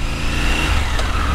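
A loud, close Triumph Tiger 900 Rally Pro 888cc triple engine rumbles and revs steadily, a deep throbbing drone filling the whole moment without any speech.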